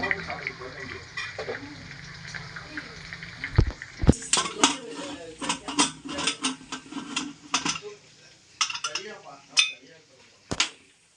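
Metal clanks and rattles sound as a pressure cooker lid is fitted and locked over rice for mutton biryani, with sharp knocks and scrapes near the microphone and brief talk in between.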